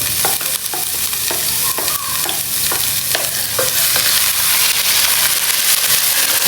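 Onions frying in a pan for spaghetti, a loud steady sizzle with intermittent scraping taps as they are stirred, close up.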